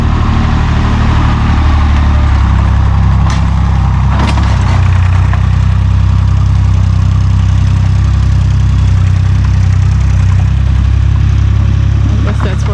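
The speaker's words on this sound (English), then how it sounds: "Loud tractor." A loud tractor engine drones steadily nearby, a heavy low rumble that holds constant throughout, with a few faint knocks over it.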